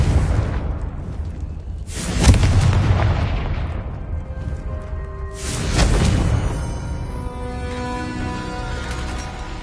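Two heavy booming blasts from the Confringo fire spell in Hogwarts Legacy, each a loud burst with a rumbling tail, a few seconds apart, the second followed by a ringing magical shimmer.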